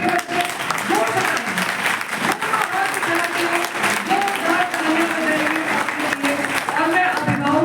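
Applause from students and parents seated in a college hall at an NSS event, a steady dense clapping that fills the whole stretch at a near, even level, with voices mixed in.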